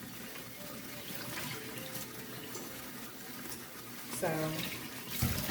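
Tap water runs steadily into a sink while something is rinsed beneath it, close and moderately loud, with a surge of splashing near the end and a brief spoken word early on.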